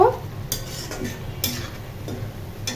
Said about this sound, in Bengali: শাকটা হতে থাক আর একটু নরম নরম করে সুন্দর করে শাকটা ভাজি করব